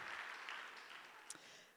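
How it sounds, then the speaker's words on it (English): An audience at a Martin Luther King Jr. Unity Day event applauds the First AME Choir, a faint, distant, steady wash of clapping with one brief sharper clap near the end. "can we also give another round of applause to the First AME Choir, please?"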